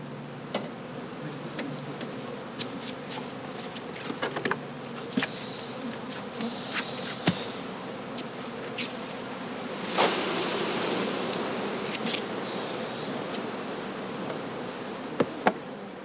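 Honey bees drone continuously around crates at an autumn apiary, a low steady buzz with individual insects zipping close past the microphone now and then, over a faint outdoor wash.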